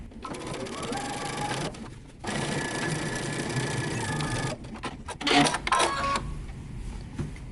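A sewing machine runs in two long bursts of steady stitching with a short pause between, joining dress bodice front and back pieces at a 5/8-inch seam; a few handling clicks and rustles follow near the end.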